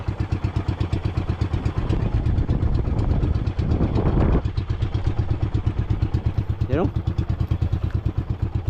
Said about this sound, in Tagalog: tambutso nga yata itong barko oh